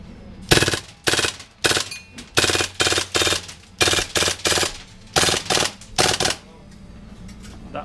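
An MP9 gas blowback airsoft gun fires in full auto, close and loud, in about a dozen short rapid bursts separated by brief pauses, with no talking.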